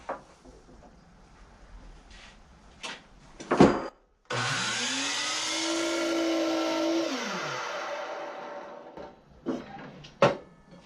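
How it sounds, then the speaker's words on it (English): A power saw spins up, rips through the end of a 3/4-inch 1x2 wood board at a 36-degree angle in one steady whining cut of about five seconds, then winds down amid light workshop knocks. "And then we'll make our first cut on the end of our 1x2."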